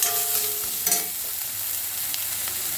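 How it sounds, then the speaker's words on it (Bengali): Ground ginger, coriander and cumin paste fries in a pan for khichuri, a brief close sizzle with a couple of spoon scrapes and knocks near the start, then steady quiet frying with no talking. "একটু ভাজা ভাজা করে নেবো।"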